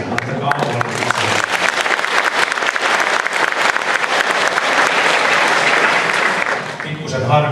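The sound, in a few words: concert audience applause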